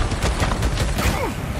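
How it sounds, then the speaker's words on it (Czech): A big explosion in the video game Days Gone, heard as a close, loud cluster of rapid blasts and crackling bursts packed into a second and a half. "tady to je hodně velká exploze"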